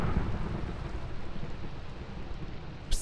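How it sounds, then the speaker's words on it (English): A thunderstorm in the Minecraft video game rumbles low and heavy with steady rain hissing over it, the thunder rolling continuously and a brief sharp burst near the end. "It's a thunderstorm"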